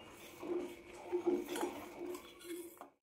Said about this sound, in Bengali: চারিদিকে যেই সরগুলো পড়বে এগুলোকে একটু চামচ দিয়ে এইভাবে করে দুধের সঙ্গে মিশিয়ে নেবেন